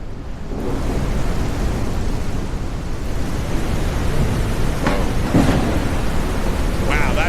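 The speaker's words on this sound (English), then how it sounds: "Wow, that is some good storm sounds." A loud thunderstorm with heavy, steady rain hissing throughout and a sharp crack of thunder rolling through midway, with brief rumbles following.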